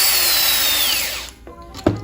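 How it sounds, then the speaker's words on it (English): A power drill whines loudly as it bores into a die-cast Hot Wheels Lamborghini toy car, its pitch sliding down as it winds down and stops, followed by a few small clicks and taps. "So you just want to put it into your drill,"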